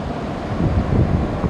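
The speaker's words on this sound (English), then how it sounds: "more large waves breaking from right to left as the crescent moon peeks through the clouds there" Large ocean waves, about eight feet tall, break at night under a dull, continuous roar of surf and wind that swells slightly midway.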